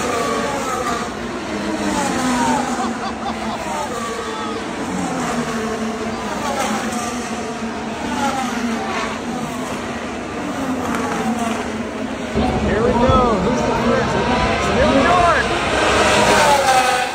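Formula 1 race car engines roaring and revving at a distance at a race start in Montreal, blending into a continuous high whine as the field pulls away, with crowd noise underneath.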